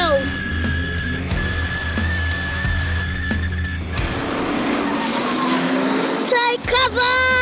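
A car does a burnout on a concrete pad at a New Zealand dairy farm, engine droning and then surging into loud roaring wheelspin, with people talking over it.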